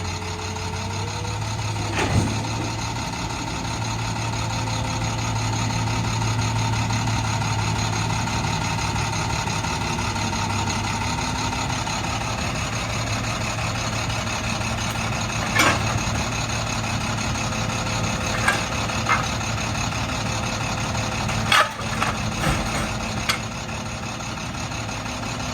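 A converted school bus engine drones steadily while driving, a continuous low rumble with occasional clunks and rattles from the vehicle.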